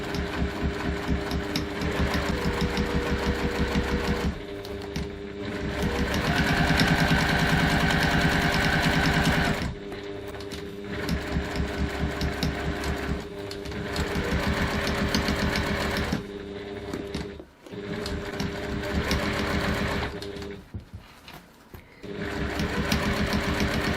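A sewing machine runs in long steady bursts as it stitches a bag pocket seam at a 2.4 stitch length, the motor whirring continuously with short pauses between runs, close and fairly loud.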